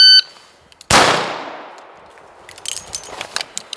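Spent shells are pushed out of the cylinder of a 3-inch Colt Python 2020 revolver. One sharp, loud metallic clang rings out and fades, followed by a scatter of lighter clicks and clinks.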